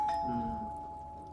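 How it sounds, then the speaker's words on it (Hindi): A single electronic doorbell chime rings clearly, its tones fading out slowly with no talking. "कितनी दफा घंटी बज रही है ना"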